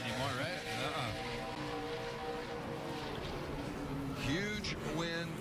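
Johnny Sauter's race truck does a victory burnout after the 2018 Texas Roadhouse 200, a sustained rough engine roar and rushing noise running under excited commentary.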